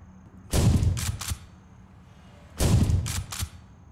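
Shotgun fire in a video game: two heavy blasts about two seconds apart, each a loud burst trailing into a few quick rapid follow-up shots, close and alone.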